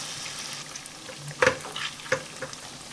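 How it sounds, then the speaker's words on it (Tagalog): Sweet potato fries frying in hot oil make a low, steady bubbling sizzle, with a couple of sharper clatters from stirring or the pan up close. "Pirituhin natin at palutungin."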